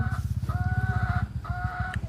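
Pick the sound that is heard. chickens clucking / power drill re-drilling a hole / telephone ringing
chickens clucking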